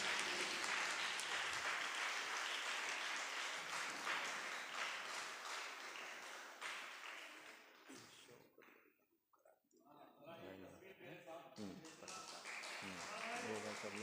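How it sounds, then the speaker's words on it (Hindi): Schoolchildren at a mushaira poetry gathering at an inter college in Gazipur clap for an honoured guest, loud applause that fades, drops near-silent, then picks up again as someone speaks over it. "अब बच्चों, ये आखिरी ताली आपकी जानिब से आनी चाहिए।"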